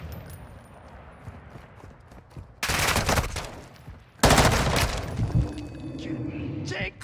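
Gunfire in the Modern Warfare II DMZ video game erupts in two loud, close bursts of rapid automatic fire. Quieter ambience and faint talk run between the bursts.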